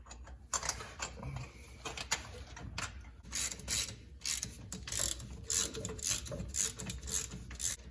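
A hand ratchet tightens a bolt on a Chevrolet Silverado during starter replacement, near a differential bracket. Its rapid clicking comes close and fairly loud in repeated bursts, with no talking.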